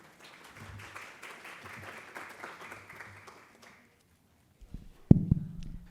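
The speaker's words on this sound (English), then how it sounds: "Please welcome them with a round of applause." An audience at an education conference claps for about four seconds, a modest, fairly distant round of applause that fades out, followed by a brief knock and a voice.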